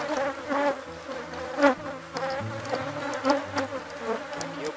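A honey bee swarm hums at a hive, with dense, continuous buzzing close by and individual bees droning past in varying pitch.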